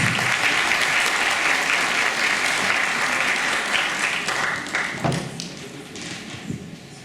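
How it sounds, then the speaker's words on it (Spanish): Audience applause at a child-abuse prevention symposium welcomes a doctor from the Pan American Health Organization, steady and full for about five seconds before thinning into scattered claps and thumps. "Bienvenido, doctor, y por favor un aplauso."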